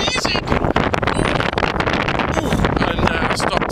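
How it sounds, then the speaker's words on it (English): Strong wind blusters across the microphone at a small harbour on a rainy day, loud gusty buffeting that fills the whole stretch. "Windy and rainy again"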